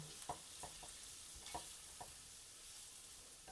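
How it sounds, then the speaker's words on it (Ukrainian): Flour is stirred into mushrooms and chicken frying in a pan, a soft constant sizzle with a few faint spoon scrapes in a loose rhythm, quiet and with no talk. "Столова ложечка борошна, ось так. І перемішую."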